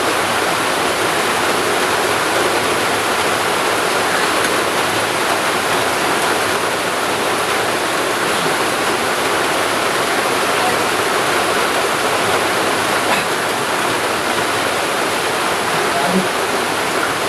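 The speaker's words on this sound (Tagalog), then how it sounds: "Ulan." Heavy rain pouring down in a steady, dense roar that stays loud and unbroken throughout, filling the whole scene.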